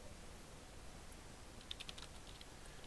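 A short, faint run of keystrokes as a command is typed on a computer keyboard, a few quiet clicks over low background hiss.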